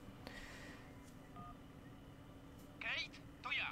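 Telephone dialing in the Syberia video game: faint tones and clicks at first, then two louder bursts of touch-tone dialing near the end over a quiet room hum, with a voice speaking during the clip.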